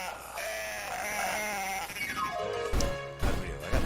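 Sheep bleat amid busy video game music and effects in the Dreamcast game Cool Herders, with a couple of loud crashing hits near the end.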